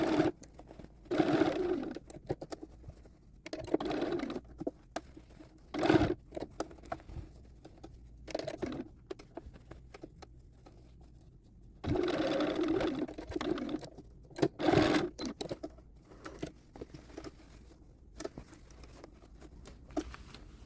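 A sewing machine stitches the lining of a doll coat made from McCall's 7301, running in short intermittent bursts separated by brief pauses, moderately close and fairly quiet.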